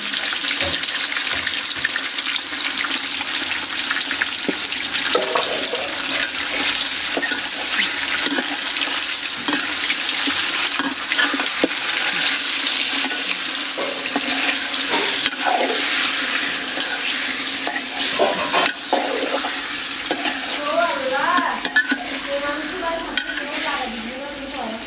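Chicken curry being stir-fried and cooked down in a pan, with steady sizzling, stirring and scraping, plus some watery splashing, at a constant fairly loud level for the whole stretch.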